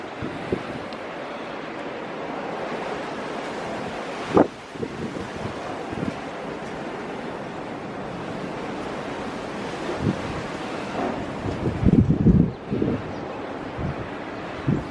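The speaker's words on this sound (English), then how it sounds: "This is all B-roll really for wind noise." Strong wind roars across an outdoor site during a wind damage inspection, a loud, continuous rushing noise with gusts buffeting the microphone and a few sharp thumps, and no talking.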